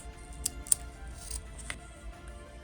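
Scissors snip through fabric for a zippered compact wallet, two sharp close cuts followed by a softer third in a quiet room.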